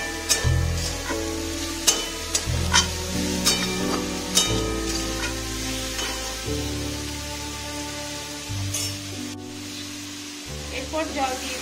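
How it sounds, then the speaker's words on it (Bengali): Tomato and salt fry in a pan for potol posto, a soft continuous sizzle broken by scattered clinks and stirring knocks from a utensil, close up, with faint background hum and no talking. "ভালো করে ভেজে নেব"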